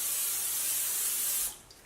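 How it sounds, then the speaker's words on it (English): A short burst of Pam aerosol cooking spray into a crock pot, hissing steadily up close, then cutting off abruptly into quiet. "spray the crock pot with the Pam cooking spray"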